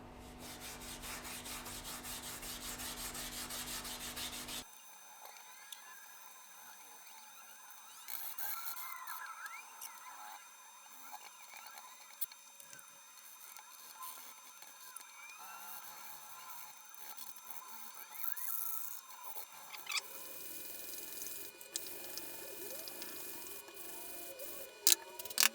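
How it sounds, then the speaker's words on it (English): Steel wool soaked in acetone is rubbed over a stripped wooden reed organ panel to lift leftover finish residue, making a faint, close scratchy scrubbing in uneven strokes. "I'm going to run over it with some steel wool and some acetone and see how much more of this residue I can get removed"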